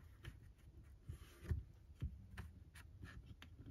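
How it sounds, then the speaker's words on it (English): Scissors snip roughly through a paper stamp image, a series of faint, close, irregular cuts and rustles over a quiet room hum. "I am going to roughly cut this one first."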